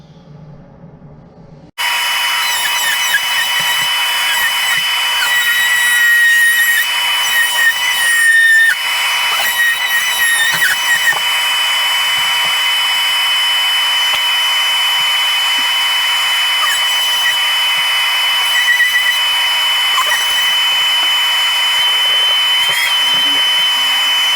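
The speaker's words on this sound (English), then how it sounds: "I'm going to have a saw running." A loud power saw whines steadily over a constant vacuum roar, the cutting pitch shifting now and then; no voices.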